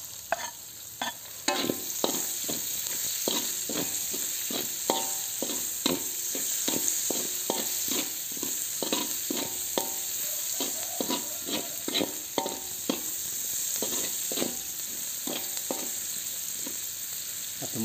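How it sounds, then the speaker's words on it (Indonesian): Shallots and garlic stir-fried in a pan, a soft steady sizzle punctuated by a long run of regular spatula scrapes and taps against the pan, close by and without speech. "Lanjut kita tumis bawang merah dan bawang putihnya."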